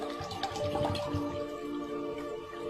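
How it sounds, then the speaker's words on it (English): Water is poured into a glass beaker, giving a continuous close splashing trickle with small drips and bubbling, steady for a few seconds and with no voices. "We're gonna fill it up the beaker with water."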